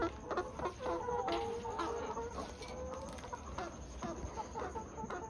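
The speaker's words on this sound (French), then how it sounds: "Les poulettes ici, elles ont 18 semaines." Several 18-week-old pullet hens cluck and murmur continuously at close range, with overlapping soft calls and a faint farmyard background.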